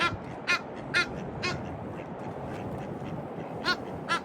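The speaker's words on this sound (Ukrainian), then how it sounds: "Ага, качка." A duck quacks several times in short bursts in Prague, Czech Republic, clear above a steady background rumble, with a pause before two final quacks.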